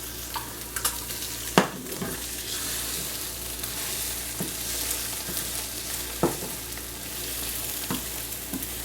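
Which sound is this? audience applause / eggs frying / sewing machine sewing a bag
eggs frying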